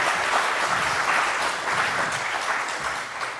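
An audience at a conference opening claps continuously, dense and fairly even applause of a large crowd in a hall, tapering slightly at the end.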